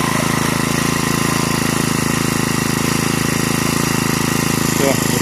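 A four-stroke brushcutter engine runs steadily at high revs, a loud, close, constant buzzing drone with no pauses throughout.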